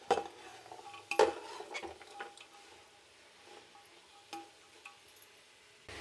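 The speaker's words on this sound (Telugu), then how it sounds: "ఈ కూరగాయలంతా కొంచెంసేపు బాగా వేయించాలండి." Vegetables stir-frying in a pan for Karnataka-style bisi bele bath, with close metallic clinks and scrapes of a spoon against the pan over a faint, steady sizzle.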